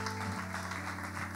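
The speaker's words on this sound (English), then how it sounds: "just clap your hands. It's okay. It's okay. Amen. Because I can see some people are clapping." Hands clap together in a church congregation, a dense steady patter filling the space over a low sustained hum of music from a bass amp.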